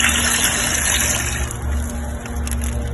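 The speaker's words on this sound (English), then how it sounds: "Filling the water chamber" Water gushes steadily into the water chamber of a smoker being set up for smoking a turkey, a continuous close rushing pour with a low hum underneath, lasting a few seconds.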